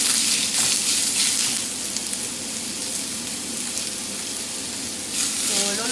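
Pork sizzles steadily in a pan with browned onion and garlic, a dense crackling hiss that rises and falls slightly as it is stirred.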